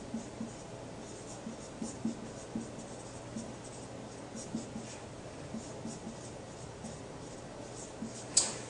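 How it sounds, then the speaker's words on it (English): Pen or marker writing on a surface makes soft, faint scratchy strokes in short, regular bursts, with a sharper tap near the end. "So let me go ahead and write that down."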